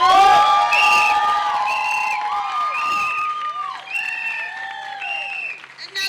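An audience at a domestic violence awareness month kickoff event applauds a speaker, with cheers and whoops rising over the clapping. The sound is loud and sustained, then thins out toward the end.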